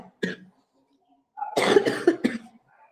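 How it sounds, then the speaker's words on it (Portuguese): A woman coughs in a quiet room: one short cough, then a harsh cluster of several coughs after a pause, close and fairly loud. "tô com uma tosse ainda meio violenta"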